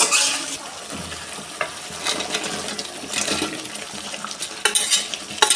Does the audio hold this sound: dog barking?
no